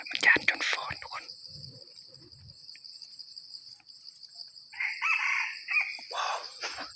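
Wild junglefowl rooster crowing near a nest in the forest, one clear crow rising out of a constant high insect drone toward the end, after a few faint rustles and brief sounds.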